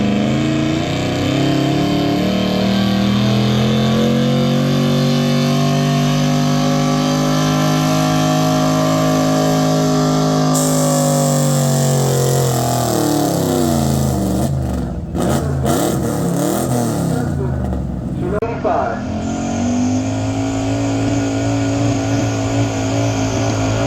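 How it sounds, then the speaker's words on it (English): A pulling tractor engine held at wide-open throttle roars loudly and continuously, its pitch climbing and sagging as the clutch is dumped and the load pulls it down, then picking back up. "hold it wide open, dump the clutch"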